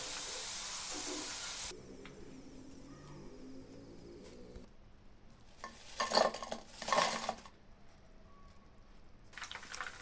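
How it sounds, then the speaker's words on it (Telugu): Green chilies, curry leaves and cashews frying for carrot 65, with a continuous hiss of hot oil, then a stretch of quieter sizzle broken by a few loud bursts of stirring and pan clatter, close up with no talking. "క్యారెట్ 65లోకి ఈ పచ్చిమిర్చి, కరివేపాకు, జీడిపప్పు వీటిని దోరగా వేయించుకొని కలుపుకోగలిగితే చాలా టేస్టీగా ఉంటాయి"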